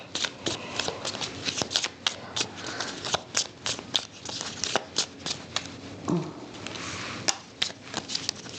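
Playing cards are shuffled in a series of quick riffling bursts and sharp snaps, close by, with no talking.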